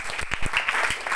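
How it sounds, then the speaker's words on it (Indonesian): Church congregation applauding at an evangelistic revival service, a short burst of fairly dense clapping heard briefly and at moderate loudness. "Beri tepuk tangan terbaik untuk Yesus."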